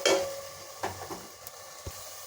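Ginger garlic paste with turmeric sautéing in a pan gives a soft, low sizzle, broken by a few light clinks and scrapes of stirring nearby.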